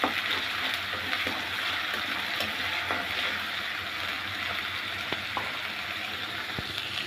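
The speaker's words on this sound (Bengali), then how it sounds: "এখন দিয়ে দিব আদা রসুন পেস্ট, দিয়ে একটু ভেজে নিব যাতে কাঁচা গন্ধটা দূর হয়" Ginger garlic paste frying in a pan: a continuous crackling sizzle, close and moderate in level, with a few small clicks and a soft knock near the end.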